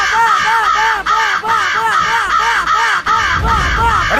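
A crow caws in a quick, regular series of harsh, loud calls close by, repeating about every third of a second before a brief rumbling sound at the end.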